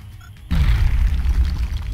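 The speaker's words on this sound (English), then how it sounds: "Throwing grenade." Grenade explosion in XCOM Long War: after a brief quiet moment, a single loud, deep boom erupts and rumbles on with crackling debris to the end.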